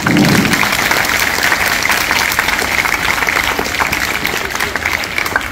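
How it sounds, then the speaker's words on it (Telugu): An audience at a junior college gathering claps steadily and loudly, a dense continuous round of applause that fades slightly toward the end, with no talking over it. "give a big clap"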